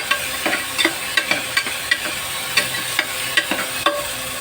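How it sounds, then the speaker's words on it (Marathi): Beans, cauliflower and potato bhaji being stir-fried in a pan: a steady sizzle broken by regular scraping stirs of the spatula, close and fairly loud, with no talking. "आता चांगला परतून झाला"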